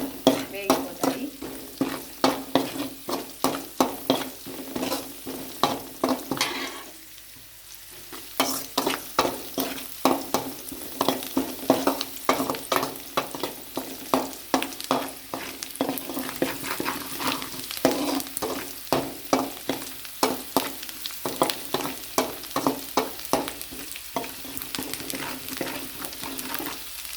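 Mushrooms with salt frying in oil for a curry, giving a continuous sizzle close by. Frequent rhythmic scraping of a spoon against the pan runs throughout, with a brief lull partway through.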